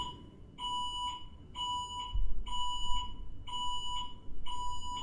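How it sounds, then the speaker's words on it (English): Fire alarm sounding indoors in repeated bursts of sharp, high electronic beeping, each roughly half a second long, with short gaps in a steady rhythm over a low background rumble. "that was the fire alarm"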